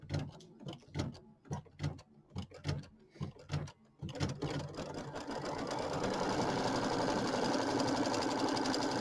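A sewing machine tacks down fabric on a quilted bench buddy square, first in short separate stitching bursts, then in a steady, close whir of continuous stitching.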